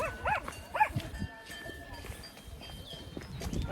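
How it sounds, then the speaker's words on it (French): Cows moo nearby on an Alpine farm, two short lowing calls early on, then softer livestock movement and outdoor rustle with faint distant bovine sounds. "Parce qu'il y a les vaches à côté."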